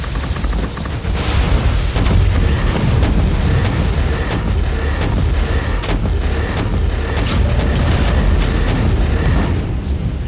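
Gunfire and explosions roar in the video game Warhammer 40,000 Inquisitor - Martyr, a loud, dense and continuous barrage of rapid shots and deep booms with no letup.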